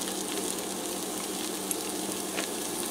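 One diced medium onion sizzles in a hot pressure cooker, a steady close broadband frying hiss with faint scattered crackles throughout, no voices.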